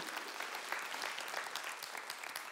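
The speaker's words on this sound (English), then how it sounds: "You're clapping" Church congregation applauding during a sermon, a steady even wash of many hands clapping at moderate distance, continuous throughout with no voices standing out.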